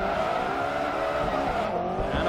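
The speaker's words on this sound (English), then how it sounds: "Oh, that's a good sounding engine." Honda S2000 racing engine in Forza Motorsport 3, a steady high-revving drone with shifting pitch and a brief tire squeal, loud and close with no talk.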